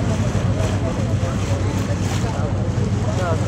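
Passenger launch ferry crossing the river from Naihati to Chinsurah: a steady engine drone with wind and water rush, continuous and loud throughout, with no pauses.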